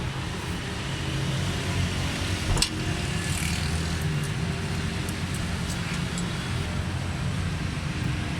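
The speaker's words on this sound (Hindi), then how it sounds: "तो माशाल्लाह गाड़ी स्टार्ट है, ज़बरदस्त साउंड है गाड़ी का।" Suzuki Cultus EFI car engine idling steadily after repair of a misfire, fluctuating rpm and fuel fault, a continuous low hum with a single sharp click partway through.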